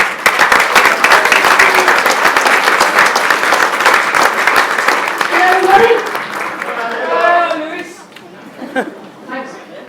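Dense audience applause at a British Touring Car Championship driver Q&A at Snetterton, loud and sustained for about six seconds before thinning out as a presenter's voice takes over.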